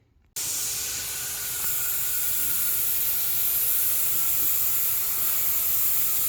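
Spray painting a second coat onto a Peterbilt 349 truck frame: a steady, loud, continuous hiss of the spray gun starts abruptly after a brief quiet moment and runs unbroken to the end.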